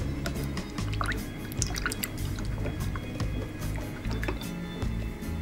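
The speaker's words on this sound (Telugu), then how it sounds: "ఈ మజ్జిగ కవ్వంతో చిక్కగా మజ్జిగ తిప్పుకోవాలి." A wooden churner stirs curd thinned with water into buttermilk, making close, continuous wet sloshing and squelching with a quick, irregular rhythm.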